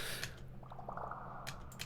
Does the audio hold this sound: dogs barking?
no